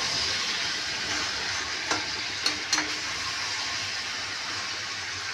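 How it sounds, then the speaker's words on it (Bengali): Fish curry ingredients stirred together in a hot frying pan, a steady sizzle with a few sharp scraping knocks of the spoon partway through, close and alone. "এবার সবগুলো একসাথে নাড়ব।"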